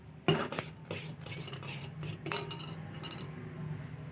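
A spoon stirs sugar syrup in a pan with quiet, repeated metallic scrapes and clinks at a steady rhythm, close up and faint, with no voices.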